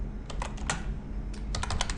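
Computer keyboard typing a date into a form, two quick bursts of crisp, close key clicks separated by a short pause.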